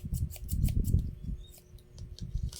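Scissors, a pair bought alongside plastic gloves, snip repeatedly in quick close crisp cuts, a dense burst of snips followed by a brief pause and a few more.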